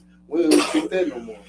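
A single sharp sneeze bursts out amid casual conversation, loud and close, with people talking before and after it.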